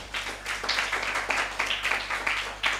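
Enthusiastic applause from a church congregation fills the hall, a dense wash of many hands clapping steadily and fairly loud for several seconds beneath a low background hum.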